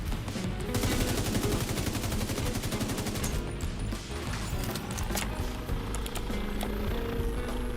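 Automatic gunfire rattles through a firefight in the shooter game The Division 2, with dense bursts early and sporadic single shots and clanks later, loud and continuous throughout.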